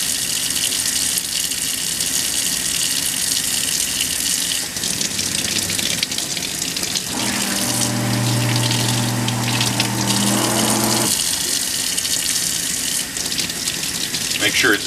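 A circuit board being rinsed under running water in a sink after toner transfer: a steady, loud rushing of water from a tap, with a brief change in tone partway through as the flow hits differently, and no speech.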